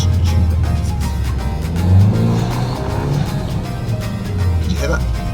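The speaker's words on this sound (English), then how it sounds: "My car makes stupid noises." Turbocharged Mazda MX5 engine droning low and loud with shifting tones and some odd whooshing noises, while a person talks over it.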